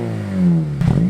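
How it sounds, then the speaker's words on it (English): A 2008-era eighth-generation Honda Civic Si with a swapped K20 engine and aftermarket exhaust revs up, a deep, loud, smooth tone climbing steadily in pitch before a brief rough burble as the throttle shifts. "that exhaust note is not something that can be achieved by a lot of cars just because of how high revving this is"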